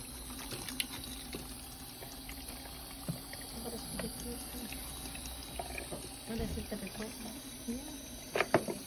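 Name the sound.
water running while rinsing hair after a perm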